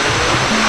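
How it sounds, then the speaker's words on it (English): Waterfall at the Polynesian Cultural Center on Oahu, a loud, continuous broadband rush of falling water heard close up and alone. "Yes, the waterfall is beautiful."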